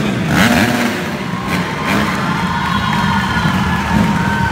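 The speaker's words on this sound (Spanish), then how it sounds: "Vamos a desearle suerte con un bonito aplauso" Audience at a motorcycle stunt show inside a metal globe of death cheers and applauds in a steady, loud crowd roar, with engine revving mixed underneath throughout.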